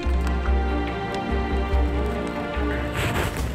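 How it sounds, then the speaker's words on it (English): Heavy rain pours down steadily outdoors while hunters set up a ground blind, a dense continuous hiss with low rumbling that lasts throughout, close and fairly loud. "it's still pouring rain"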